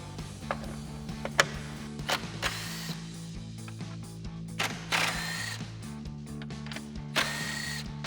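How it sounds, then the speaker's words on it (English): Impact wrench with a 10 mm socket removing four upper grille mount screws on a 2021-2023 Ford F-150, several short, close, rattling bursts separated by pauses, over a faint steady hum. "grab our 10 millimeter socket on our impact and remove the 4 10 millimeter screws for the upper grill mount"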